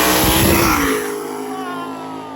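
Buick drag car launching into a power wheelie on a drag strip, a loud roaring engine blast close by that peaks at once, then fades into a falling, whining drone as the car pulls away.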